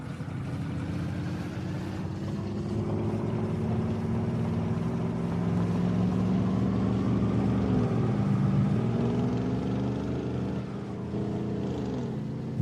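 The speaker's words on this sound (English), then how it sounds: "His truck sounds so good." A truck engine runs loud and steady close by, a deep continuous drone with slight pitch dips as the throttle shifts, no voices over it.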